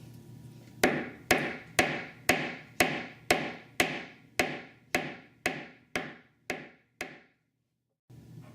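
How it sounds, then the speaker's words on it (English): Steel hammer striking rivets through a leather cuff bracelet set on a metal bench block: about twelve sharp, ringing blows in a steady rhythm, close and loud, each decaying briefly, then a pause and a final faint knock. "place it on the edge of the bench block again, and hammer these two rivets into place"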